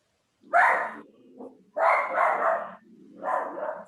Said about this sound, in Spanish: Desactive el audio que ahí escucho un perro.